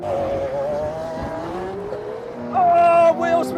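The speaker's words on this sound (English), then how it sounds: "Oh, wheels spin off the line." 2020 Lamborghini Aventador S Roadster and McLaren 720S Spider at a drag race launch, wheels spinning off the line with a loud revving engine whine that climbs in pitch, then surges louder near the end.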